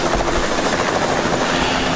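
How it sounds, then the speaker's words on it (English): A tour helicopter flies over Cairns, Queensland, its rotor thudding loudly and continuously with a rapid rhythmic chop, close by. "Another way to enjoy the reef is to take a helicopter ride"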